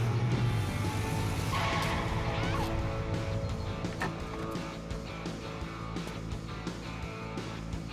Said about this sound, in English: It's a monster truck.